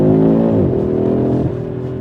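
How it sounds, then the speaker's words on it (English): A 2025 Audi RS3's five-cylinder engine revs hard at full throttle, loud and close from inside the car, its pitch climbing, dropping briefly with a gear change, then rising again. "Let's give it full throttle here."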